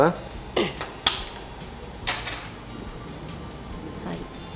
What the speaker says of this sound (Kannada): ಈ ಕಡೆ ನಾವೊಂದು ಕಡಾಯಿ ಇಟ್ಕೊಳ್ಳುವ.